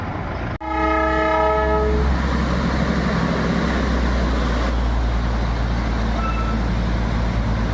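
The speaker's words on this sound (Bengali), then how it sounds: "তখন আমি একটি টয় ট্রেন দেখতে পেলাম" A Darjeeling toy train's horn blasts for about a second and a half on the hill line between Kurseong and Darjeeling, then the train rumbles loudly and steadily past at close range.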